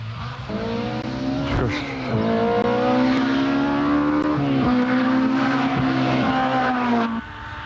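1989 Rallye de Metz rally car roaring loudly along a straight at high speed, the engine note swelling and dipping with gear changes and a brief squeal before it fades away.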